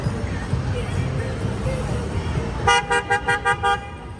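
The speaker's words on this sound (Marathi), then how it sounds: "लोक हॉर्न मारायला लागले" Car horns honk in a busy New York City street, with a murmur of traffic and voices first, then a rapid series of six short, loud toots close by.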